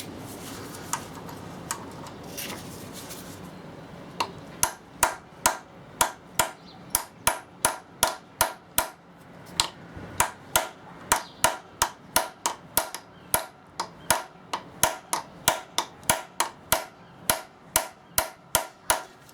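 Metal tapping on a socket extension to drive a part home on a VW camper in a garage, a long run of sharp regular strikes, close and loud, after a brief stretch of rustling.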